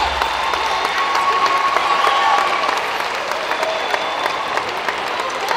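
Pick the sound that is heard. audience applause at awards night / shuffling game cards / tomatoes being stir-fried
audience applause at awards night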